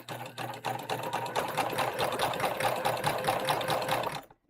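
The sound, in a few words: sewing machine stitching a tote bag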